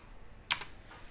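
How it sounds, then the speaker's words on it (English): Two or three quick key taps on a small computer keyboard, close and crisp, over a quiet room. "The keyboards are so small now."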